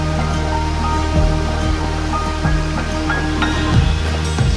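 Rough surf and unusually strong wind at a Boracay beach, heard from a hotel terrace: a continuous, loud wash of waves and wind noise with faint swells in intensity and no voices.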